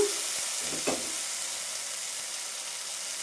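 Palak (spinach) fries in a pan while cooking palak paneer, a soft steady sizzle with a brief stirring clatter near the start, quiet and close, with no voices.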